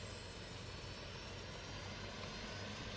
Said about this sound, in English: It's its own engine at the back, the APU